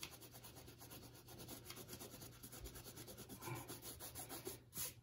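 Rubber masking is rubbed off a watercolour painting with a fast, continuous, soft scrubbing that stays faint and close and goes on without speech.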